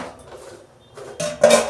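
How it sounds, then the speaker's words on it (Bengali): The lid comes off a cooking pot of potatoes and peas in a home kitchen with a short metallic clink and clatter, close and loud, after a quiet moment. "ঢাকনা খুলছি"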